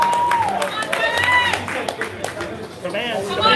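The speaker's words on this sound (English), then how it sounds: "Give her a round of applause." At the AFC Thai Powerlifting Federation Open 2018, an audience claps and cheers for a lifter, with scattered applause rising and falling among shouted encouragement and loud voices.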